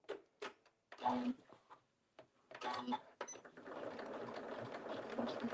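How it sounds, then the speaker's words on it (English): A sewing machine stitches a fabric corner made from scraps, with a few short bursts and clicks as the work is positioned, then a steady, close whirring run of stitching with faint speech. "I'm just going to back stitch there and stop"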